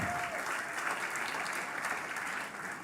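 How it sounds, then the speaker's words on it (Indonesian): Congregation applause fills a church worship service at GBI Pantai Permata in Batam, a dense, steady clapping that holds at an even level for about three seconds with no break. "Beri tepuk tangan buat Tuhan Yesus."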